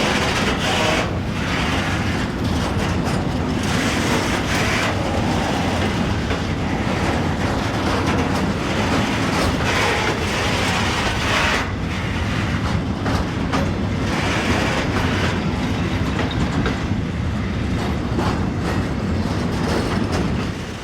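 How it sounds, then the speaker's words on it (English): Class 742 diesel locomotive, a 64-tonne, 1185 horsepower Slovak shunter, moving timber factory wagons: a steady, loud engine drone with rolling wheel rumble and rail clatter throughout, unbroken and with no voices. "Class 742 diesel number 742-310 shunting wagons from the nearby timber factory"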